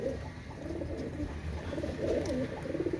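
Pigeons coo softly in a loft, a steady stream of low, overlapping murmuring calls at close range with no voices.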